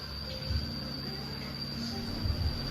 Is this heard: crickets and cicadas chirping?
yes